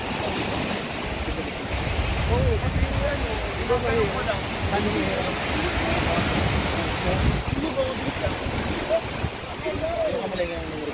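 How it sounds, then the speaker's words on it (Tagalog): Strong sea waves surging and breaking, a rough, constant roar with wind buffeting the microphone and faint voices underneath. "grabe po ang lakas ng alon ngayon"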